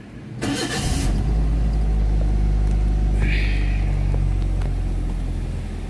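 A car engine with a rough idle fault and a check engine light cranks briefly, catches, and settles into a steady, loud idle rumble that holds close and constant, with a brief higher whir partway through.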